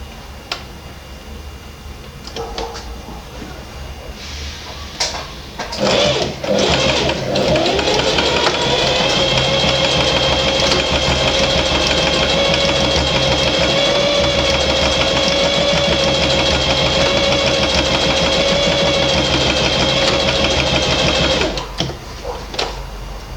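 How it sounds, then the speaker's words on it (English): Sewing machine running a straight stitch along a jockstrap seam, starting after a few handling clicks and whirring steadily and loudly for about fifteen seconds before stopping. "You can sew this part using a zigzag stitch, a little zigzag stitch, or you can also use a straight common stitch."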